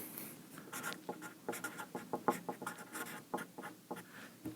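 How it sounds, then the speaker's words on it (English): A pen writing notes during a chemistry lecture, a quiet run of short scratching strokes in an uneven rhythm, close and faint, with no talk over it. "let's write that down so that we don't forget it"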